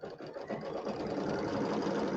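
An embroidery sewing machine stitches a tack-down step on a bench pillow, giving a steady, rapid mechanical whir with a fast needle rhythm, close and unbroken.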